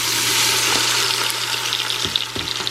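Pork fat sizzles steadily in an Instant Pot set to saute, a loud, continuous hissing crackle with a low electrical hum underneath and a couple of faint knocks near the end.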